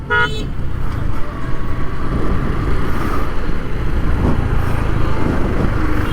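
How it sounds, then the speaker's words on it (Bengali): A car horn gives one short honk at the start, then a steady roar of road traffic follows on a jammed road near Cox's Bazar, with engines rumbling loudly and close. "যেহেতু তৃতীয় দিন আজকে অনেক জ্যাম।"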